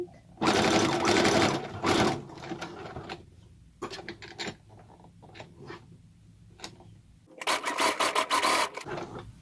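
Sewing machine stitching elastic onto a foot pedal pouch, running in loud bursts near the start and end with quieter, intermittent whirring and fabric handling between, no talk.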